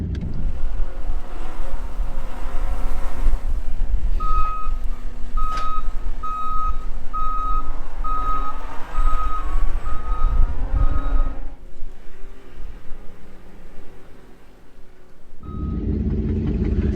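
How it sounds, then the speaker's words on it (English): A skid loader pushes a truck and trailer up a hill in a thawing field, its engine droning steadily while a reversing alarm beeps in a regular repeating pattern, with wind noise over the microphone. "He's just pushing me with the skid loader now."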